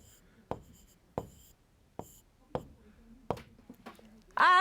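Chalk or marker writing on a classroom board during a Class 3 maths lesson: a series of sharp, evenly spaced taps and strokes, close and fairly quiet, with a brief louder scrape at the end.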